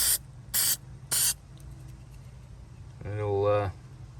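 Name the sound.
spraying aerosol paint stripper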